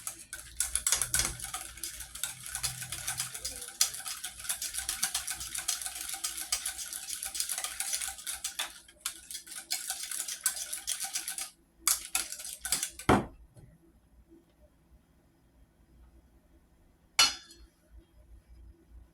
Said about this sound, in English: We're going to stir all this up.